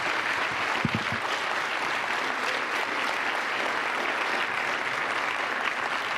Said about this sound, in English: What a round of applause for our veterans here